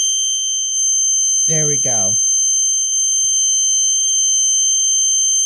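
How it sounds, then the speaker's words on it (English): Snap Circuits 3D Illumination electronic alarm, triggered by reflected light, sounds a steady, piercing high-pitched electronic tone that runs continuously, with a short spoken phrase partway through. "When the light is reflected correctly, the alarm will sound."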